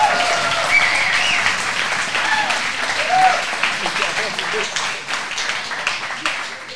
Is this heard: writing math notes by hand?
no